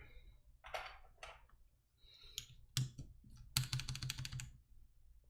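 Lubed Cherry MX RGB Brown switches on an LZ Iron mechanical keyboard, 7U spacebar, clack in irregular bursts of close, crisp keystrokes, a few separate presses, then a fast run of typing near the end, no talking.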